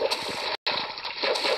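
Chickens splash and flap in water in the video game Minecraft, version 0.9.5: a quick run of sloshing and splattering bursts, fairly close, with a brief silent gap midway.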